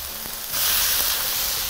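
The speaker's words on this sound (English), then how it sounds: "Now I'm going to get in there and start stir frying." Steady hissing sizzle of chilli chicken stir-frying in a hot wok, growing louder partway through and continuing evenly with no one speaking.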